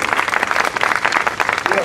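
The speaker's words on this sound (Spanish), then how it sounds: "Dele un aplauso al Señor. Fuerte, fuerte, fuerte" Church congregation clapping together in steady, dense applause, loud and close, with voices mixed into the sound throughout.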